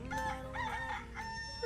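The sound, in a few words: rooster crowing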